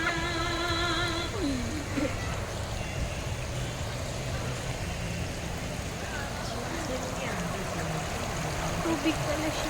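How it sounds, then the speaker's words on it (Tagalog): Flowing stream in Pease Park at NTU in Taiwan gives a steady, moderately loud broadband rush throughout, with a brief electronic beeping at the start and a faint outdoor background. "Tubig pala siya guys."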